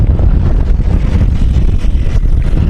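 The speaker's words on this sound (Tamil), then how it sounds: "செம காற்று அடிக்குது" Strong wind buffeting the microphone during a fast motorbike ride in Bangkok, a loud continuous low rumble with no speech.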